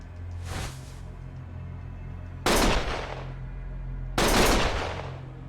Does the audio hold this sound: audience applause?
no